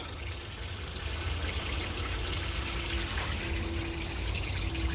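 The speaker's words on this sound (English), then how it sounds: "So I'm gonna give it a good watering before we go on." Water pouring from a hose or can onto a potted allspice plant inside a greenhouse, a steady, fairly loud rushing hiss that runs without a break and with no talking.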